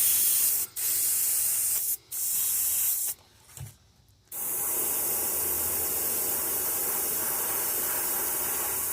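An airbrush hisses pearl white paint onto a largemouth bass fishing lure in steady bursts, with brief stops and a longer gap before the spray resumes continuously.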